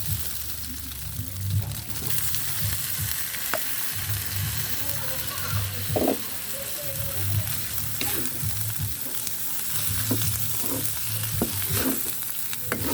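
Ham and mushrooms fry and sizzle steadily in a pan for carbonara, with a utensil stirring and scraping in recurring bursts, close and moderately loud, and no one talking.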